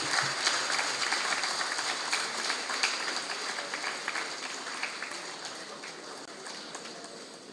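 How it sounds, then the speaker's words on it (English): A large audience at a university community day event claps steadily, a dense patter of many hands that stays fairly loud throughout and fades slightly toward the end, with no speech. "I request to give them a big round of applause."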